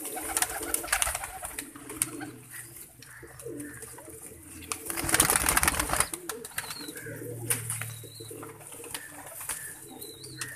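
Pigeons in lofts and cages coo repeatedly in low, throaty phrases, with scattered chirps, rustling and occasional wing flaps around them, fairly close.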